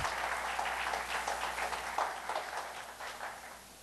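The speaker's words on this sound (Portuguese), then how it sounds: "E vamos aplaudir ao Deus de Israel." A church congregation claps together after a call to praise God, a dense, steady wash of many hands filling the whole clip at moderate loudness, slowly thinning toward the end.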